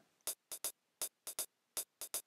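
Close, dry sequenced hi-hat hits with triplet swing, uneven long-short spacing giving a lilting shuffle feel, with no other instruments.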